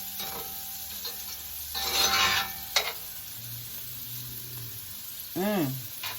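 Onions being stirred and cooked in a hot cast iron skillet for curry crab, with scraping stir strokes and a soft low sizzle, plus a brief louder rustle midway and a short tonal sound near the end.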